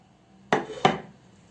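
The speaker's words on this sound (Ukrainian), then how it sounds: "Приступаємо до нарізання язика." A knife slices boiled tongue for Olivier salad on a cutting board, giving two sharp, close chopping knocks about a third of a second apart in a quiet kitchen.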